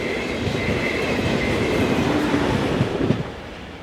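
Locomotive 1116203 hauls the 0538 Bratislava to Zurich train past on the Swiss mainline, a steady loud rumble of wheels and rails that fades slightly at the end.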